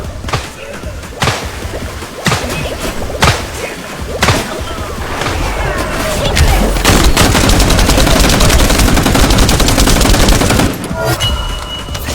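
Turret gunfire in a video game: quieter scattered shots give way to a loud, sustained stream of rapid machine-gun bursts that dominates the middle and end, with no talking.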